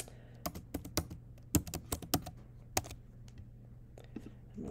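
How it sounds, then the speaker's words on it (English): A password is typed on a computer keyboard, with a quick irregular burst of close, crisp keystrokes followed by a few sparse taps and quiet. "I'm going to make up a password"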